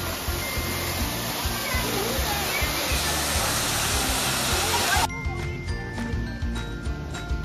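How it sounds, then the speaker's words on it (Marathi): Rimbi waterfall in Pelling, Sikkim, a large fall that roars as a dense continuous rush, heard up close, then drops abruptly to a quieter, thinner background partway through. "ह्या वॉटरफॉलचं नाव रिम्बी आहे. वॉटरफॉल आहे आणि बघा किती मोठा आहे."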